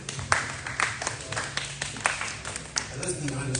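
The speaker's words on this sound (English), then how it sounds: "Let's clap it up for Captain Astrid." Audience at a bookkeeping event at CoBiz Richmond clapping for a guest, a burst of many sharp hand claps of moderate loudness, fairly close, with talk and cheering over it.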